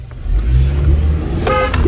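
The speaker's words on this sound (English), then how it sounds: "I told you to stop honking" A car horn honks loudly and close, a couple of short toots over the hum of a nearby vehicle.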